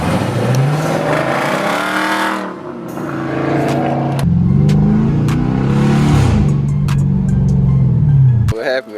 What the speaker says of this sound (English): I'll burn out right now, that bitch.